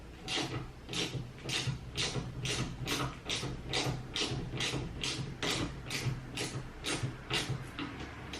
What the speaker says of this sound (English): You need a 7/16 ratchet.